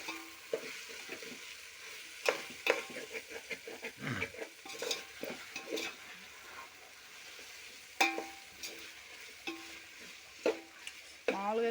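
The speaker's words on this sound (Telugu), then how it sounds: "ఇవి ఆలుగడ్డ వేసాం కదా, అది ఊరికే ఫ్రై అయిపోద్ది." Potatoes sizzle softly in a pan while a spoon scrapes and stirs them in repeated knocks and clatters, close by and fairly quiet, with no talking.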